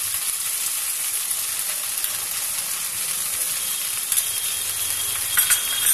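Onion garlic paste fries in a pan for a corn and mushroom mixed vegetable dish, giving a steady soft sizzle with a few small crackles near the end and no talking.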